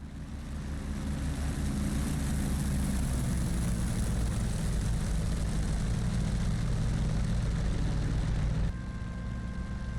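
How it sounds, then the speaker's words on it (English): F4U Corsair World War II propeller fighter in the DCS flight simulator, a loud steady droning piston engine roar sustained for several seconds before dropping abruptly in level near the end. "And just like that, we are airborne in the F-4U"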